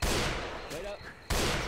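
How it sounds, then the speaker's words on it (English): Gunfire in the game Left 4 Dead 2 in a swamp setting: a loud sharp shot opens, followed by a second abrupt blast near the end, with a busy noisy game backdrop between. "I missed my first shot."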